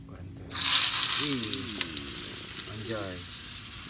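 Eggplant frying in a pan at a camp aboard a boat, with a loud burst of hot sizzling and crackling oil that settles into a steady fry, while voices talk over it.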